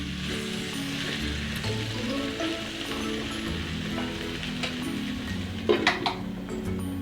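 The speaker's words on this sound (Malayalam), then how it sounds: "ഇടയ്ക്കൊന്ന് ഇങ്ങനെ ഇളക്കി കൊടുത്തുകൊണ്ടേ ഇരിക്കുക" Vegetables for aviyal are stirred in a pan over low heat, giving a steady soft sizzle with scraping and clinks of a spoon against the pan. A brief cluster of sharper metallic knocks comes near the end, with no talk.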